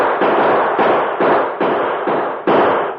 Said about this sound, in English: as soon as we fire some shots into the air